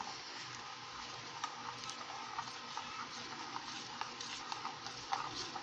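A spoon stirs China grass pudding mixture in a pan with continuous scraping and light bubbling, plus small clinks now and then, close and fairly quiet with no talking.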